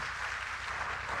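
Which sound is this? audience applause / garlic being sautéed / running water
audience applause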